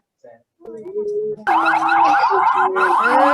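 A fire engine siren wails loud and close, its rising and falling tone cycling steadily after a few brief faint sounds at the start, with no talk over it.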